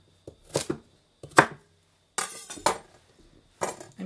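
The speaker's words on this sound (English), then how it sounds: "And I just chop them" Knife chopping vegetable sprigs for a Thanksgiving turkey on a board: four short bursts of quick, close thuds separated by brief pauses, with no talk.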